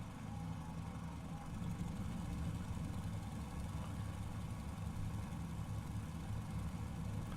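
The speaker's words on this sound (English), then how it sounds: "I can hear the engine behind, and I can hear all 3" Three radial engines of a Fokker F.VII trimotor idling in Flight Simulator, a steady low drone, even and continuous, heard alone at moderate level.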